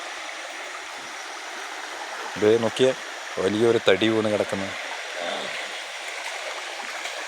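A river flows steadily with a constant rushing, gurgling wash, close and moderately loud, while someone speaks over it in the middle of the stretch.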